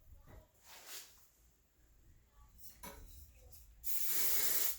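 Hairspray mists onto teased hair in a salon: a short, loud, breathy spray burst near the end, after quiet handling sounds and soft talk.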